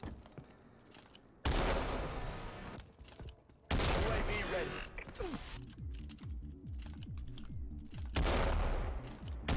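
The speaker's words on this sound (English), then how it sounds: "The best sniper in Call of Duty Advanced Warfare." Atlas 20MM sniper rifle from Call of Duty: Advanced Warfare firing in a video game, three loud booming shots with mechanical reload clatter between them, speech faintly present beneath.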